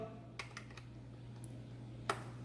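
A few sparse keystrokes tap on a computer keyboard over a steady low electrical hum, quiet and close with irregular gaps between presses.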